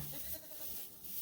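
A ewe in a lambing-season pen bleats to call her lamb back, a fairly close, wavering call repeated over a farm background with no talk.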